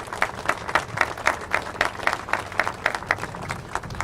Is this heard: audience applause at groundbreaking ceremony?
yes